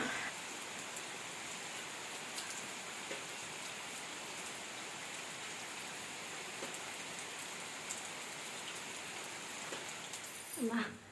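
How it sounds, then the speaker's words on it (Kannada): Steady soft patter of rain falling on surfaces, with scattered louder drips and a brief clatter near the end; no speech. "ಹಾಗೆ ಮಳೆ ಕೂಡ ಬರ್ತಾನೇ ಇತ್ತು"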